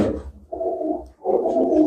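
Pigeons coo nearby in low, rolling phrases, one after another with a short dip between them.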